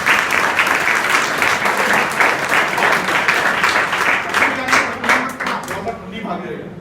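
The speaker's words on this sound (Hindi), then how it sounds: "तो ताली को बजा दो" Students at an inter college adolescent education program clap together in steady, dense applause that fills the room and then thins and tapers toward the end, with some voices mixed in.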